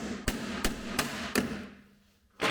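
A hammer pounds the core out of a rivet on a Ski-Doo Expedition snowmobile's front bumper, making four sharp metallic strikes at a steady pace followed by a brief pause and one more hit, against a low background hum.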